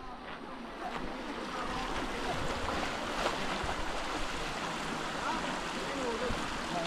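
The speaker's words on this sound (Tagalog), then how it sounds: "Lakas ang agos eh." Strong current of a river in Norzagaray, Bulacan, a steady close rush of water that continues for the whole clip, with some wind noise and a faint voice in the background.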